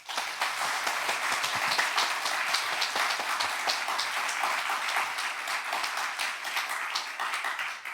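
A full audience at a university ceremony in a church setting gives sustained, even applause for students and staff, a dense wash of many hands clapping at steady volume with no voices.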